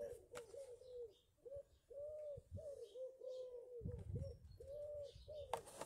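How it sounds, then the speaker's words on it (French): Turtle doves and pigeons coo repeatedly in soft, rounded calls that overlap and repeat, fairly close, over a quiet outdoor background. "c'est la symphonie des tourterelles et des pigeons"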